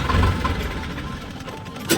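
A farm tractor in the early morning runs steadily up close, its engine rumbling evenly and loudly before a brief louder burst near the end.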